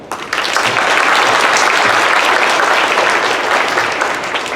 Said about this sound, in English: let's give another round of applause to Alex, Aubrey, Addison, Natalie, Ike, and Peyton